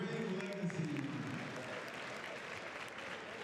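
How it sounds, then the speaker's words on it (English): Crowd applause filling a gym during a state championship basketball team's 60th anniversary recognition at a Bryson High School game, a steady dense wash of clapping throughout with some voices mixed in. "Let's give them all a round of applause as we celebrate their enduring legacy."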